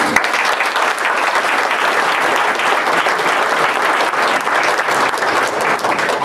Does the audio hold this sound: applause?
yes